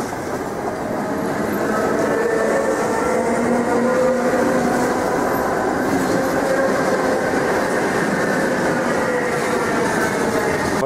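Passenger train pulling away from a station on the line toward Serpukhov, a steady rumble with rhythmic clickety-clack of wheels over rail joints, loud and continuous without any talk.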